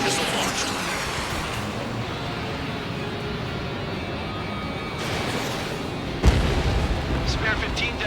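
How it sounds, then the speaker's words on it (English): Missile launch in the combat flight game Ace Combat 7: a dense, continuous jet roar with rumbling booms, a sharp burst near the end, voices talking over it. "Missile launched."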